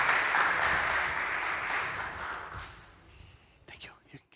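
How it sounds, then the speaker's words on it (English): Conference audience applauding a speaker at a blockchain developer event, a dense wash of clapping that stays steady for a few seconds, then thins out and fades, leaving a few scattered claps and faint voices. "Give him a round of applause."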